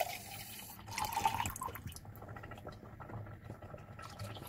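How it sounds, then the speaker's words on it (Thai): Water being poured into simmering homemade tomato sauce in a pan, a soft splashing trickle over a low cooking hiss, fairly quiet and steady. "เราก็ต้องใส่น้ำไปเพราะว่าเวลาเคี่ยวไปนานๆแล้วน้ำมันจะแห้ง"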